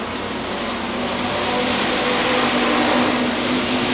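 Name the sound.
hobby stock race car crossing the finish line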